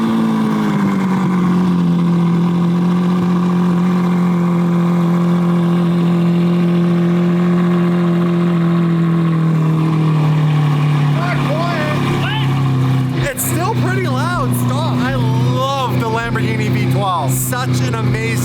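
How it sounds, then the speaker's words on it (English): A stock Lamborghini Aventador's engine revs loudly and steadily up close, its deep drone sliding lower before sharper throttle blips near the end, with people talking over it. "I forget how loud a stock Aventador is"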